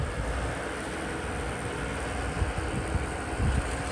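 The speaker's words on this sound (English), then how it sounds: "we're gonna see how this blower works in this deep stuff" Steady drone of a Kubota L6060 tractor running a snow blower through deep, hard, crusty packed snow at -20°C, a continuous rumbling roar with slight surges, moderately loud and constant.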